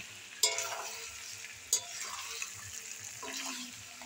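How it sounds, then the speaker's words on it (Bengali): Meat sizzles in a pan as it is browned with spices, with a spatula scraping and stirring in a few sharp strokes over a steady, close frying hiss. "মাংস রান্না হচ্ছে"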